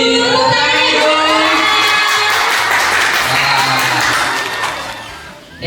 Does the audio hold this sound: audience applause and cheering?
yes